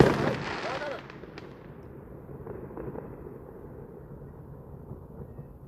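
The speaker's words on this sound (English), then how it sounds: "today we're gonna do the fireworks" A single loud firework burst opens the recording, then a faint, rumbling crackle of distant explosions lingers and fades over several seconds.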